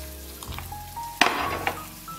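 Ravioli stirred through sauce in a pan gives a soft sizzle, with a sharp spoon scrape and clink against the pan midway, close and fairly quiet.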